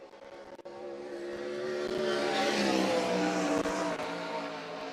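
A 410 sprint car on a qualifying lap at the Front Row Challenge roars in, its engine note climbing and swelling louder as it approaches and holds near, alone without commentary.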